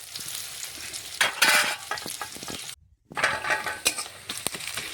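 Onions stirred and fried in white oil in a pan: steady sizzling with scraping strokes of a spoon, a brief gap of silence midway, then the frying and stirring resume.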